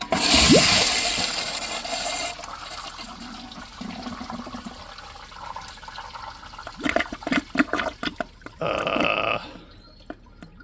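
A 2004 Gerber Ultraflush pressure-assist toilet flushes with a loud opening rush of water that tapers into gurgling and refilling, followed by later bursts of splashing and a hissing surge near the end.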